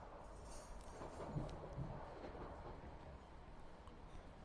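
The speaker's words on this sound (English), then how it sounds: "The sound of the train, a steady rhythmic hum" Train rolling along its track with a steady, rhythmic low rumble and hum, a constant broadband wash at moderate level without breaks.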